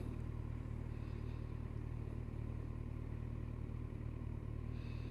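A 2014 Kawasaki Z1000SX motorcycle engine runs at a steady, low idle nearby, a quiet continuous rumble under faint wind noise.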